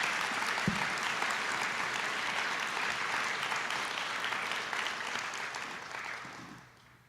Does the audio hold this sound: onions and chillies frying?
no